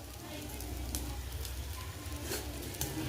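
Rice sautéing in ghee in a pan for dal chawal, a steady close sizzle with soft patter throughout.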